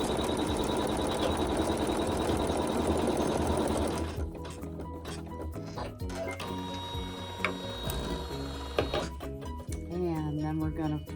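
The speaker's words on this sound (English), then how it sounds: "Make the raw edges even with the raw edge of the fabric in the center and then sew the seam" A sewing machine runs steadily for about four seconds while sewing a seam in quilt fabric, then stops, and a voice talks over quiet handling sounds afterward.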